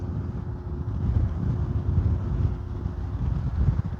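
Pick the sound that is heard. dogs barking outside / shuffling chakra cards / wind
wind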